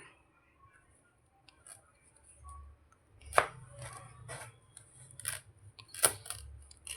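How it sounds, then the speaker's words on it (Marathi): A knife cuts through a piece of round pumpkin (bhopla) on a board, giving a few sharp chopping knocks and crunchy slices at close range, spaced irregularly over a faint low background, with no talking. "मी हा एक भोपळ्याचा पीस घेतलेला आहे त्याला आपण आधी कट करून घेऊया"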